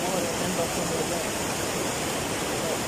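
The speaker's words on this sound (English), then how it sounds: "See how strong the wind." Strong wind roars in a dense, unbroken rush close to the microphone near water, with a voice speaking faintly beneath it.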